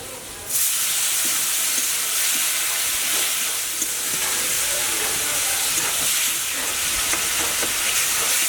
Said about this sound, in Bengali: এবার সামান্য জল দিয়ে দিচ্ছি